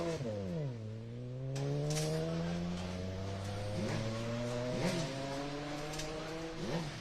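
A BMW race car at a hillclimb event sweeps up through its revs in long rising engine howls with gear shifts, loud and close throughout.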